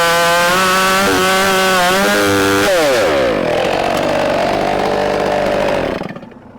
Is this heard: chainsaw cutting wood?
yes